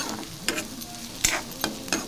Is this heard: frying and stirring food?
yes